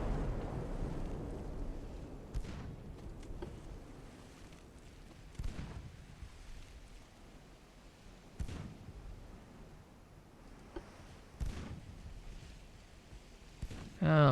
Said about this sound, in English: A full spread of torpedoes.